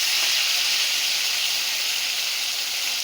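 Snakehead (shol) fish frying in hot oil, giving a loud, continuous hiss and sizzle that holds steady without a break. No voices are heard over it.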